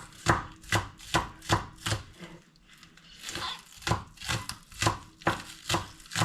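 Knife chopping spring onion (scallion) on a cutting board, a series of crisp, close, evenly spaced thwacks with a brief pause midway, then the steady rhythm resumes.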